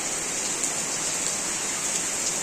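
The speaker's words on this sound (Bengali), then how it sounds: "হঠাৎ করেই বৃষ্টি শুরু হয়ে গেল।" Sudden rain pouring steadily outside a home, a dense, even wash of hiss with no breaks and no voices.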